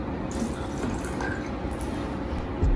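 Liquid poured into a glass during a drinking game between friends, a steady trickling, splashing stream that runs for several seconds close by, with no talking over it.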